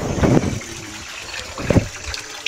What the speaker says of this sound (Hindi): ये तो पानी आ रहा है इसका, बहुत ही अच्छा नज़ारा है